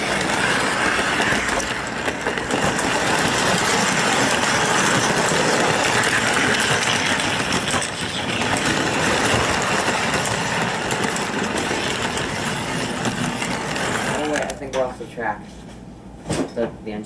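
A Santa Fe model train locomotive pushes a gondola car along a toy layout, giving a continuous close rumbling and rattling motor-and-wheel noise that stops near the end, followed by a few light clicks.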